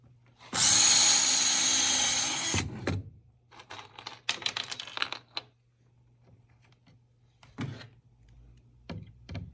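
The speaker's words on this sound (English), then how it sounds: "tilt it towards the arm, and drill the inside hole." A power drill whines loudly for about two seconds as it bores into a wooden Adirondack chair part, followed by scattered clattering and a few brief bumps and knocks.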